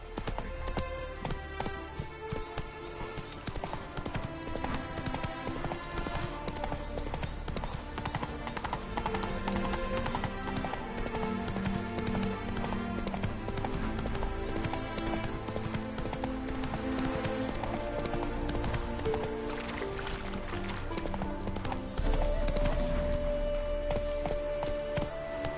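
Roach, Geralt's horse in The Witcher 3 on PS5, clip-clops along at a steady run, the hoofbeats sitting under a dense, continuous orchestral score that stays loud throughout.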